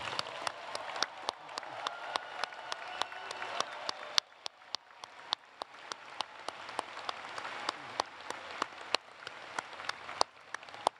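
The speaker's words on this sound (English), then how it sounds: "Let's give our graduates one final round of applause." A round of applause for graduates at a University of Cincinnati commencement ceremony: scattered, fairly sparse claps from a modest audience, steady across the whole stretch with individual sharp hand claps standing out, no talking.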